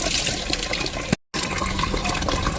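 Water gushes steadily as it is poured over fish pieces being washed on a cleaned stone slab, with buttermilk also used in the rinse; the rushing is close and continuous apart from a brief break.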